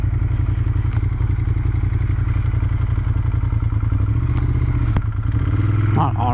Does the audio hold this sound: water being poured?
no